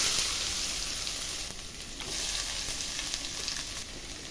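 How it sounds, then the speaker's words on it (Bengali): Onion sizzles in hot oil with whole spices in a pan while khichuri and chicken kosha are being cooked: a loud, steady, crackling fry close to the microphone throughout, with no talking. "পেঁয়াজটাকে ভালো করে আগে একটু ভেজে নেব।"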